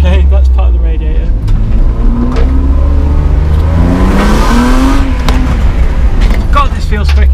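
A BMW E36 with a swapped-in M50 six-cylinder engine accelerating hard, its engine note rising through the gears with a shift around the middle, loud and close from inside the car, with someone talking over it.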